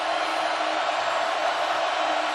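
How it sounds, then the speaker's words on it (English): Crowd roaring at Autzen Stadium during a college football game, a dense, steady, loud wash of voices from a packed stadium holding constant throughout. "How about this crowd at Autzen Stadium with its team down 28-7 making noise?"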